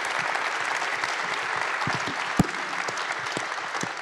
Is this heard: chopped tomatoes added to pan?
no